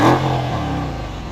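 A Mercedes-Benz E63 AMG engine with its exhaust blips loudly then settles into a throaty, slowly falling idle rumble, close up and alone.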